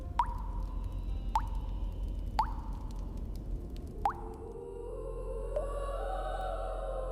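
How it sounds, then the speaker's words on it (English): Water dripping through a tiny hole in the bottom of a stone jar into a bowl, a few clear resonant plops spaced a second or so apart over a quiet low hum. "a stone jar with a tiny hole in the bottom through which water drips into a bowl"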